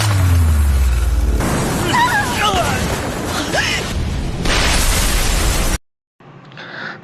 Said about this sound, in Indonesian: tempat tersebut meledak